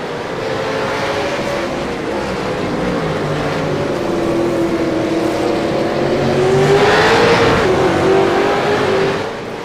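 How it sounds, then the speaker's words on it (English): A V8 race car at Winton accelerates hard back onto the track, engine note climbing steadily in a loud, sustained drone, with a swell of roaring noise late on. "Now he gets back on the throttle and gets back out into the racetrack"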